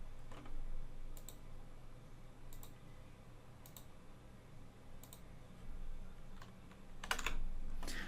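Soft keystrokes on a computer keyboard, a handful of isolated clicks spaced a second or so apart over a low background hum, ending with a quick cluster of taps; no one speaks.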